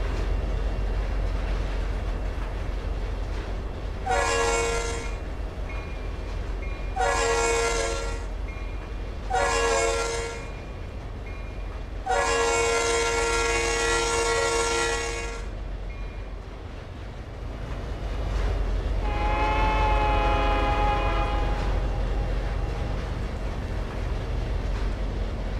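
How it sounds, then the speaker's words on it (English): Norfolk Southern train in the Trainz video game sounding its horn in a pattern of two long blasts, a short one and a longer one, then a fainter distant horn, all over a steady low rumble of rolling rail cars. "There's a Norfolk Southern train over there."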